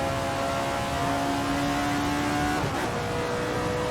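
Alfa Romeo 33 Stradale engine sounds in the racing game Assetto Corsa, a steady loud droning hum with a sustained tone that holds evenly, then dips briefly near the end.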